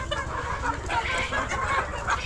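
Poultry farm chickens, their eyes damaged by ammonia gas, cluck and murmur together as a dense flock with no talk over them.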